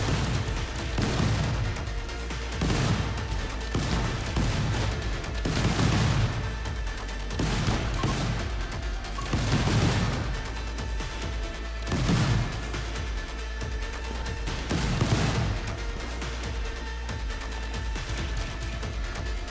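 Repeated booming explosions in the video game RimWorld roughly every two to three seconds over a constant droning background, loud and dense with crashing bursts.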